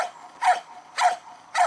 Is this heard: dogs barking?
yes